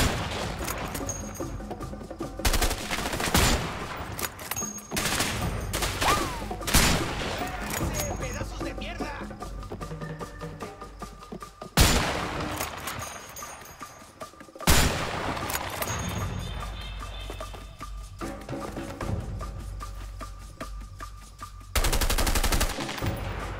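Gunfire from a shootout in A Way Out, sharp loud shots and rapid bursts spread across the stretch, with voices talking between volleys.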